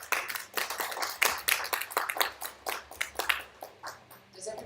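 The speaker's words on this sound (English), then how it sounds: "can we have a round of applause as we welcome Barrister Israel Usman" A small symposium audience gives sparse, uneven clapping to welcome a barrister, with individual claps audible and a voice murmuring in between as it tapers off.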